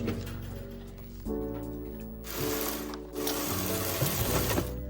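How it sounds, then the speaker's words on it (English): A robot's ball intake mechanism runs with its servo, giving a close, steady mechanical whir of gears and rollers that shifts pitch as parts engage, with brief louder bursts as the mechanism cycles; no talking. "next we'll get you a close-up of the mechanisms working"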